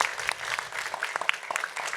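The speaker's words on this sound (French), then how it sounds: "On peut vous applaudir déjà" A room of audience members applauds steadily in dense, continuous clapping at a moderate distance, with no voices over it.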